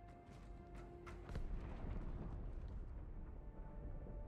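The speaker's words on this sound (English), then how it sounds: "That explosion came from inside the Athens, same as the Malta." A deep, rumbling explosion aboard a starship in Halo 2 Anniversary swells into a sustained roar of low-end noise, loud and continuous, with no voices.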